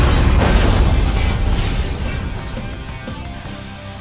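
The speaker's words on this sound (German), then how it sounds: "bis plötzlich alles explodierte" A loud, roaring explosion in a sci-fi audio drama, with a heavy initial blast that rumbles and crackles before slowly decaying over several seconds, no voices over it.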